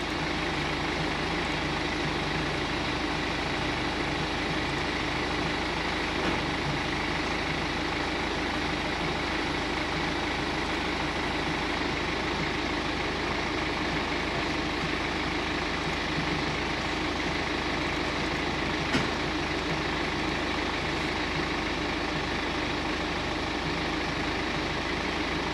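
Cold BMW M47 diesel engine idling steadily with a constant low rumble and even mechanical clatter, close and continuous throughout, with no voices.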